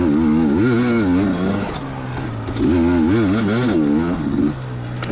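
A 2019 KTM 250XC two-stroke dirt bike rides a trail at Prospect OHV, its engine loud and close, rising and falling through repeated revs and throttle blips with faint clatter from the terrain.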